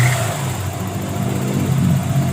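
A Mazda Miata engine revs steadily and close by, a dense, even mechanical drone with rich low harmonics that holds for a couple of seconds without any talking.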